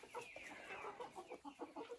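Several chickens cluck and squawk agitatedly at a newcomer hen in a dacha coop, a steady run of close, overlapping calls with a brief rising squeal near the start.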